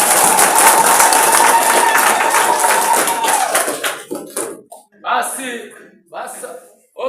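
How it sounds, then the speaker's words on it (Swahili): A crowd of citizens applauding at an outdoor public gathering, dense steady clapping with a sustained tone over it that breaks into scattered bursts and talk before fading out. "Piga makofi wananchi"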